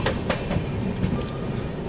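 An Arunachal AC Superfast train picks up speed on a rainy run, its wheels beating a steady clickety-clack over rail joints beneath a constant close rumble and hiss, with no voices.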